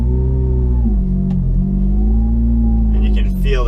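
A 2006 Ferrari F430 pulls away in first gear. Its engine sends out a loud, close, smooth drone that dips and then climbs gently in pitch, and a voice speaks briefly near the end.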